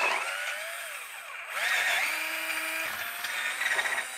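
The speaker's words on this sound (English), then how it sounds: "So you need to expand that a little bit with a drill." A power drill whines in short bursts as it widens a screw hole in a stair climbing hand truck, its pitch rising and falling as the bit bites and eases off.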